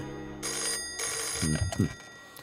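Telephone ringing indoors: two clear electronic rings, then a brief clatter as it stops.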